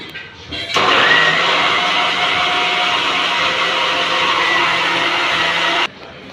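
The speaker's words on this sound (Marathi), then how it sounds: "ज्यूसचं जार लावून घेतलेला आहे मिक्सरला।" A mixer grinder fitted with a juice jar blends a mango mastani milkshake with sugar, a loud, steady whirring roar that kicks in abruptly, runs for about five seconds and cuts off cleanly, close by with no talking.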